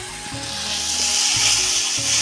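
Potatoes, carrots and greens stems stir-fried in oil in a wok give a steady, loud sizzle, with the scrape and rub of stirring returning in regular strokes.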